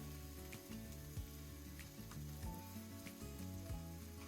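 Onions and garlic sizzle steadily in a pan, a soft continuous frying crackle with faint stirring clinks, quiet and close, no voices over it.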